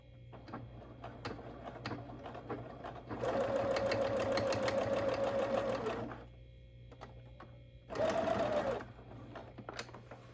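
A sewing machine stitches trim onto fabric with a small stitch, two close bursts of rapid mechanical whirring, a longer run then a shorter one, with quiet handling between.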